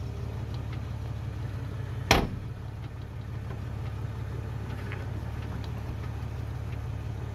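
A Spartan locker in a truck's differential gives one sharp, loud pop as the truck turns with the wheel cranked in two-wheel drive, standing out over a steady low engine idle.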